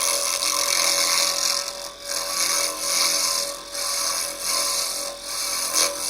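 A wood lathe spins a block of UV curing resin at roughly 1,800 RPM, and the tool gives a steady, loud scraping hiss that dips briefly several times as the cut eases off and bites again.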